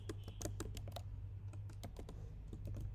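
Steady computer-keyboard typing while code for a React JS to-do list app is entered, with rapid, uneven key clicks running continuously throughout at close range over a low constant hum, no voices.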